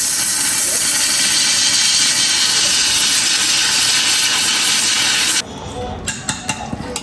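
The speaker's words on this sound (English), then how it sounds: "it's just a Indian pressure cooker" Steady, loud hiss of steam venting from an Indian pressure cooker fills most of the clip, then cuts off abruptly near the end, leaving a few sharp clicks and knocks.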